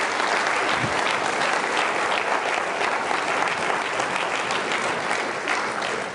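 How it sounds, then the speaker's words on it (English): A convocation audience at PSU gives a sustained round of applause, dense steady clapping from a large crowd without a break. "let's all give each other a big round of applause"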